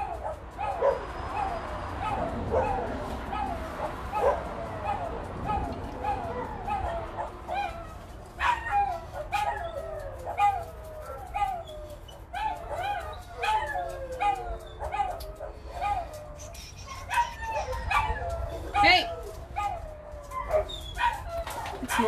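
Dogs barking and whimpering indoors: repeated sharp barks, yips and high whines come in irregular bursts, fairly close, with a person's voice speaking among them.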